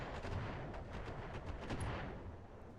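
Turrets in the BattleTech video game pound away in a dense, continuous barrage of heavy gunfire, loud and rumbling throughout with overlapping shots and no pauses.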